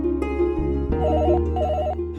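A telephone rings indoors in a home, a repeating electronic trill heard alone in two bursts over a low steady hum.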